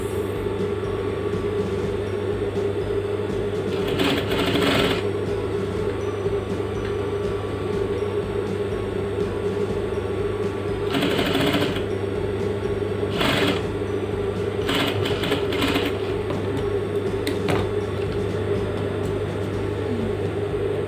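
An industrial sewing machine stitching a suit jacket pocket flap runs as a steady mechanical drone, with a few louder bursts of motor and needle clatter breaking in at irregular points.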